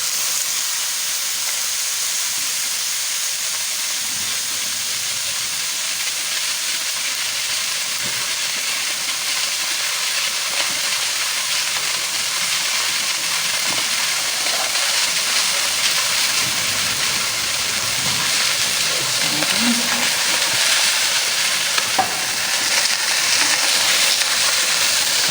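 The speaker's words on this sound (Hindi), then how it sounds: "तो गोश्त डाल देते हैं। थोड़ी सी चर्बी भी है गोश्त में," Fatty chunks of beef sizzle in a pot for homemade beef mandi, a steady hissing fry that runs the whole time at an even level with no talk.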